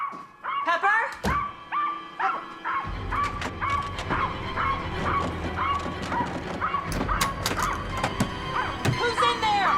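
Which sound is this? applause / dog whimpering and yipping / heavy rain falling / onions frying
dog whimpering and yipping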